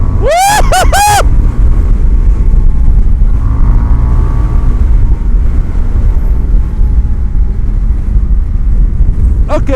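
A 2020 Indian FTR1200 motorcycle engine runs close with a loud steady drone under heavy wind noise, and a brief whoop of voice comes near the start.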